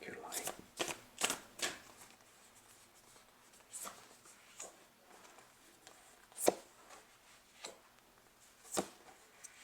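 Tarot-style cards being shuffled and handled close by, a string of crisp snapping riffles and light slaps at irregular intervals over a quiet room.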